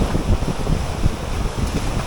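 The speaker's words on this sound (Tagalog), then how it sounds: "nalaki ng alon dito" Big sea waves and gusting wind buffet a small boat off Sabang in rough weather, a loud continuous roar of wind against the microphone with heavy surging water, no voices.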